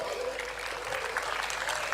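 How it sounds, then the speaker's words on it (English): Steady applause from a conference audience fills the space, broad clapping noise holding at an even level throughout. "A loud round of applause for Parul"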